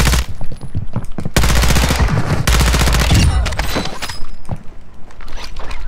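Rapid bursts of ISO 45 SMG fire in Warzone 2, loud close automatic volleys in two long strings followed by shorter scattered shots, with no talking.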